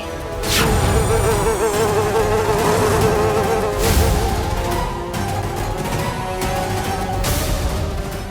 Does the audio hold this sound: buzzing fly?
yes